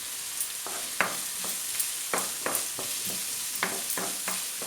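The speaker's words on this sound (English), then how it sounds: "the onion is beginning to cook nicely" Chopped onion frying in a pan as the base for a vindaloo curry, a steady close sizzle broken by repeated sharp taps and scrapes of stirring.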